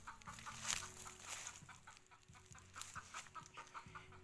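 Hens clucking at a backyard nest, with short repeated clucks and soft calls coming in bursts, fairly close but quiet. No one speaks.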